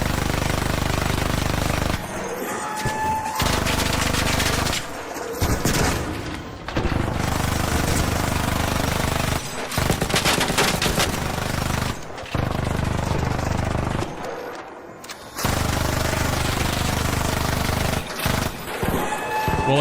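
Bursts of heavy gunfire from a bastion turret enemy in Arc Raiders, several long loud volleys separated by brief pauses, with faint talk in the background.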